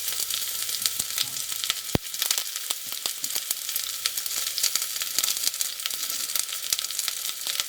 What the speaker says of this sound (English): then we're going to add 3 cloves of garlic, and half a red onion sliced.